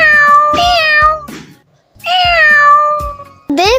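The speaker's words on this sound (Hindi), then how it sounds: "वो बिल्ली कितनी भूखी कमजोर लग रही है।" Cartoon cat, hungry and weak, gives two drawn-out, high, plaintive meows separated by a short pause, then starts a third, clear and close with no talking.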